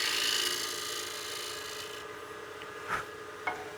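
A turning tool cuts the concave hollow of a wooden utility box lid spinning on a lathe, giving a steady close rasping scrape that eases after two seconds, with a couple of brief sharper catches near the end.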